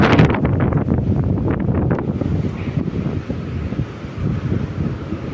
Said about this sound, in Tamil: நமக்கு மேலே இருக்கனால காற்று சவுண்ட் அதிகமாக கேட்குது